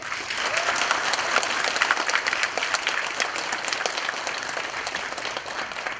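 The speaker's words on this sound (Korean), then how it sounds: "광복 80주년 대전 특별강연을 힘찬 박수와 함께 시작하겠습니다" Sustained applause from a lecture audience greets the start of a special talk in Daejeon marking the 80th anniversary of Korean liberation, dense steady clapping filling the room throughout with no speech over it.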